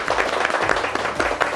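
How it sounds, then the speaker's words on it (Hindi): A studio audience on a Hindi show bursts into continuous, dense applause, a steady wash of many hands clapping close and loud throughout. "एक बार सबके लिए जोरदार तालियां होनी चाहिए भाई।"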